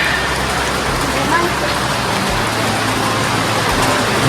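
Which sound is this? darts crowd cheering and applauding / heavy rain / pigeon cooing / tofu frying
heavy rain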